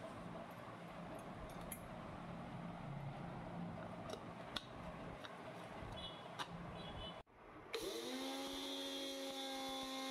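A mixer grinder grinds poppy seeds and mustard seeds into a dry paste, starting with a quiet steady whir and rattle, then a brief cutoff and a louder, high-pitched motor whine that settles into a steady drone.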